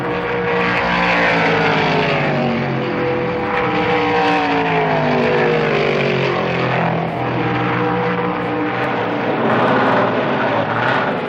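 NASCAR Winston Cup stock cars racing at Ontario Motor Speedway in 1974 at around 185 miles an hour, a loud continuous engine roar with pitch sweeping down and back up as the pack passes, no voices.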